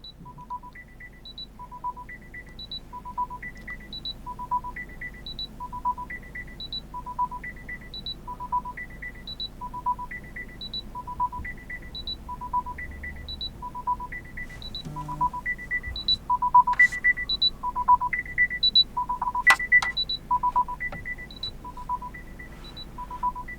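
Repeating AirPods Max Find My alert chime tones ring out in a steady, evenly spaced pattern, growing louder as it plays, with a few brighter, louder beeps and light handling noise joining toward the end.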